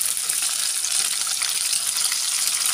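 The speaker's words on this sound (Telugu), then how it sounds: "ఇప్పుడు జీలకర్ర ఇలా వేగాక ఉల్లిగడ్డలు వేసుకోవాలి" Onions and cumin seeds frying in hot oil for an egg curry, giving a steady, close sizzle that hisses without pause throughout, with no voices.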